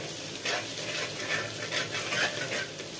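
Chilli powder being stirred into a Chinese-style dish frying in a pan: a continuous, close sizzle with soft scraping strokes of the stirring repeating throughout.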